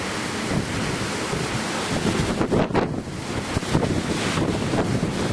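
Loud roaring cyclone wind battering the microphone, with surging gusts and a constant rushing like surf, no voices, during Cyclone Yasi.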